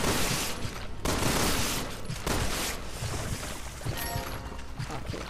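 Sustained automatic gunfire from the Resident Evil 6 video game, a dense continuous rattle of rapid shots with a brief gap near the start, loud and close throughout with no clear speech.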